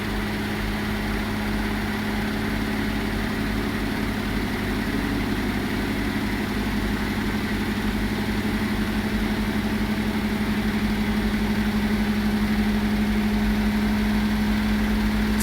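A Hotpoint HE7L492 washing machine on a cotton cycle ramps up to a 1200 RPM spin, giving a steady, loud, continuous mechanical hum and drone with a strong low tone and no talk.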